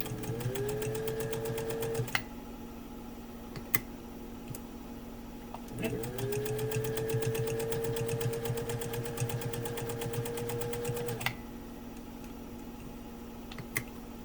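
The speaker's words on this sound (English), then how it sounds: "you're going to hear the motor strain because the machine is just not in the right position." A 1955 Singer 201-2 sewing machine runs in two long stitching bursts with a rapid, even needle clatter over a steady motor whine that rises as it spins up, pausing briefly between runs, close and clear.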